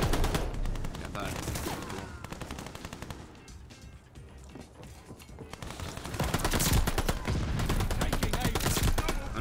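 Dense automatic gunfire in the first-person shooter video game Call of Duty: Vanguard, Season 2, with rapid bursts and rattling volleys crackling almost continuously and growing louder and more sustained toward the end.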